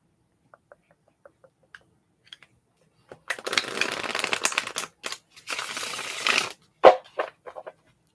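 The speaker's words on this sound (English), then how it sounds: "I'm going to shuffle the cards." Tarot cards being shuffled in a quiet ASMR setting: a few soft taps first, then loud rustling riffle bursts lasting several seconds, followed by a sharp snap and a few lighter clicks.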